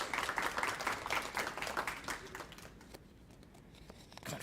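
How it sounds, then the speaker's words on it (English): A small crowd at a literary magazine unveiling claps for an award winner; the brief patter of applause thins out and fades to a few scattered claps. "Also, give her a round of applause"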